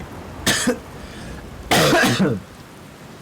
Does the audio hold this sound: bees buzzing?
no